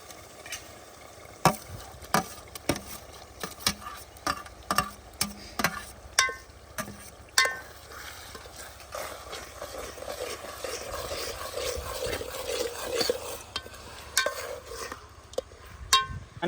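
Onions and tomato gravy frying in oil in a pan over a village chulha, a spoon scraping and clacking against the pan in repeated sharp strokes over a faint steady sizzle, no talking.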